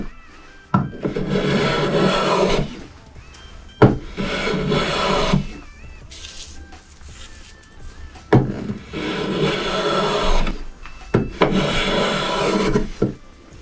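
A Japanese hand plane (kanna) shaves a wooden board braced against a stopper, producing about five long, close, rasping strokes, each a couple of seconds, separated by brief pauses and soft knocks.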